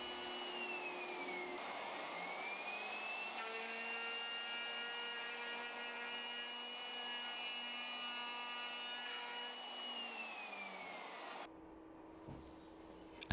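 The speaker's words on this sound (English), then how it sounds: "So I push the router along, the bearing riding along the first fence until I'm all the way through the workpiece." A handheld router with a bearing guided along a fence jig cuts a dado across a wooden workpiece, a steady high whine held for about ten seconds before spinning down, alone and fairly close.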